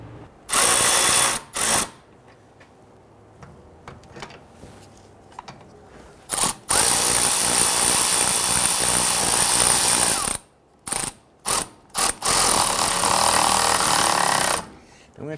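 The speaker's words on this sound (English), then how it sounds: "I'm going to try and tighten these in a crisscross pattern here to pull that bearing into the knuckle" Loud ratcheting bursts tighten the wheel hub bolts on a 2011-2017 Nissan Quest rear wheel bearing job, a string of rapid clicking runs broken by short pauses, close up, with some talk between them.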